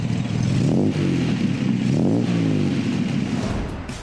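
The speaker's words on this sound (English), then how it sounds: "The spectacular sound and sumptuous power are the work of the BMC C-Series engine" An Austin-Healey's BMC C-Series engine revs loudly and steadily, its deep throaty growl rising and falling in pitch, close up with no talking.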